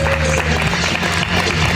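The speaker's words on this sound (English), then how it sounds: "Please give her a big round of applause." An audience at a morning event claps together in a dense, steady burst of applause, loud and close, with a few voices mixed in.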